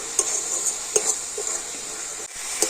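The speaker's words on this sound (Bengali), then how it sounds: "এলাচটা দিয়ে আবার একটু ভালো করে নাড়াচাড়া করে নেব" A spoon stirs a sweet filling with cardamom in a pan, making close, rhythmic scrapes and taps over a constant light sizzle.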